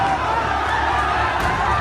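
A dense, loud crowd in uproar on a Kolkata street as it chases police and RAF personnel, a continuous roar of many shouting voices and commotion throughout.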